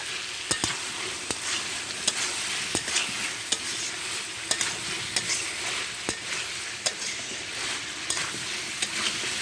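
Goat meat and potatoes sauté in a pan under a soft, steady sizzle. Sharp clicks and scrapes from a spoon stirring them come at irregular intervals, with no voices.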